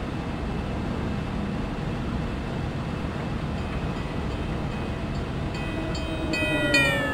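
Steady rumble and rolling noise from inside the Carolinian passenger train running from Charlotte to Raleigh, with faint high-pitched squeals or tones rising near the end.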